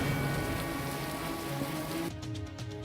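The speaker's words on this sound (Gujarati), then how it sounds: "ધોધમાર વરસાદ બનીને વરસ્યા" Heavy monsoon rain pours down steadily in Gujarat, a dense continuous hiss of drops on surfaces that drops slightly in intensity near the end, with no voices.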